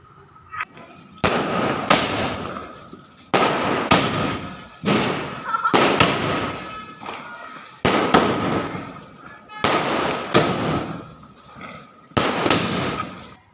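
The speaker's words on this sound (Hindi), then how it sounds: "आज भी वैसे ही पटाखों का शोर है 22 जनवरी में" Firecrackers burst one after another in loud, rolling volleys during a 22 January Ram Lalla celebration, each crackling barrage lasting a second or two before the next begins.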